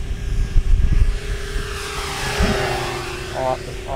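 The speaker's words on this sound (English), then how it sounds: "I'll give you sort of a slow speed flyby here." FreeWing de Havilland Mosquito RC model plane making a slow, low pass close by, its twin electric motors giving a steady buzzing drone that swells and fades, with wind noise and faint outdoor sounds around it.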